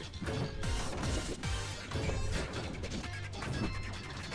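A train smashes through glass in Denshattack, giving repeated crashing bursts with a clattering, shattering texture. The impacts come in quick succession at a moderate level.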